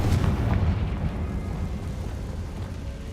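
A Confringo fire-blast spell erupting in Hogwarts Legacy, a loud rumbling explosion at the start that rolls off into a long, fading low roar.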